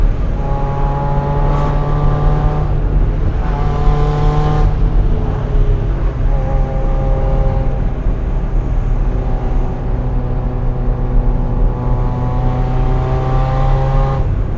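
A Mazda Miata's engine drones steadily on a mountain road, close and loud, with revs rising and falling as the car accelerates and shifts, no voices.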